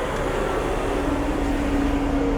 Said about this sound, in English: Sorry about the noise, guys. One of these road sweeps going past.